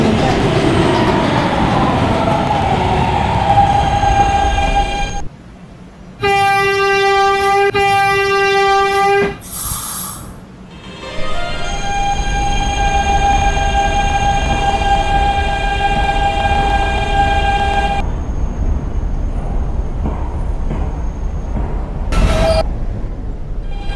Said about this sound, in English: This is a Catalan bound D train